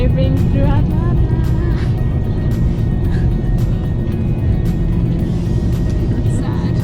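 A car drives through Atlanta, its engine and road rumble loud and continuous throughout. People talk inside the car over the steady drone.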